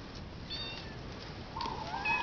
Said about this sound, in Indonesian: Yang kucing cowok Jack.